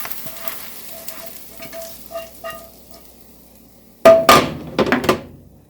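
An onion and garlic mixture sizzles in a pan for chili, a steady low crackle with a few light stirring knocks, then a louder burst of scraping stirring near the end.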